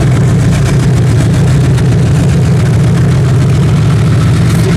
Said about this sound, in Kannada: ಸೌಂಡ್ ನೋಡ್ರಿ ಅದ್ರ ಡೀಸೆಲ್ ಇಂಜಿನ್